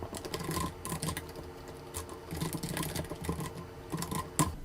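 Rapid clatter of keys on a computer keyboard as a quiz question is typed into Moodle, with irregular bursts of close, crisp keystrokes and brief pauses.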